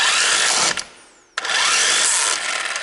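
AEG electric impact wrench tightening a nut, loud rattling hammering bursts with a brief pause midway before the tool fires again, close up.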